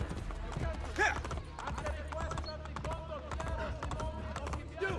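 Horse hooves clip-clop steadily in Assassin's Creed Brotherhood, a continuous rhythmic trot mixed with game ambience and occasional vocal sounds.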